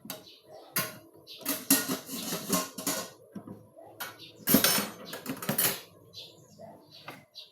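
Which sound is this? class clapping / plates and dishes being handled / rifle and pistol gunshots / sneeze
plates and dishes being handled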